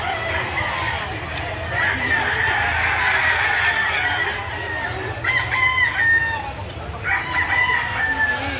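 Roosters crow repeatedly amid a dense chorus of clucking chickens at a poultry market behind SM Lipa City, Batangas, with crowd chatter underneath.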